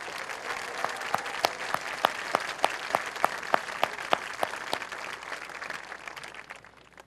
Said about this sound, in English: Let's give the parents and the community members a round of applause.